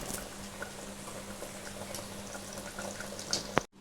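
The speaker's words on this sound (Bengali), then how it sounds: "এটা কিন্তু আমার অলরেডি ভালোভাবে ফুটে গেছে" White mutton curry bubbling steadily in a pot, a close, continuous boil with soft popping, ending in a sharp clack just before it cuts off.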